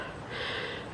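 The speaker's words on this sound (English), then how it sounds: "Heavy breathing." Heavy breathing of a person worn out after walking up steep hills in Ubud, Bali: one close, short breathy gasp or exhale, moderately faint, with no talk.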